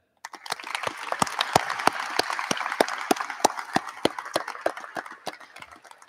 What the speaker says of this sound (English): Graduates, please join me in giving a big round of applause to all the friends, family, and school staff